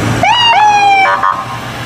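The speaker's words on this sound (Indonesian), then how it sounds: "Ada mobil ambulan." A toy ambulance siren sounds close and loud, a short rising-and-falling electronic wail lasting under two seconds.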